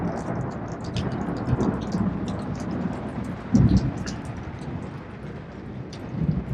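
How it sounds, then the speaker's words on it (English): Steady rain falls outdoors during a thunderstorm with lightning, rolling thunder rumbling at a distance, one deeper crack standing out midway. "but there's some lightning."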